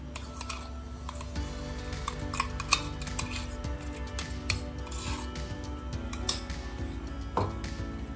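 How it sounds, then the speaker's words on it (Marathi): A mango and coconut mixture is added to a pan with ghee for mango burfi and stirred, producing steady, faint clatter and scraping of a utensil against the pan over a constant low hum, with no talking. "त्यामध्ये आपल्याला हे मिश्रण टाकून घ्यायचं आंब्याचं आणि नारळाचं।"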